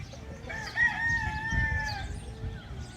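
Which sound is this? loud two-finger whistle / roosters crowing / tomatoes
roosters crowing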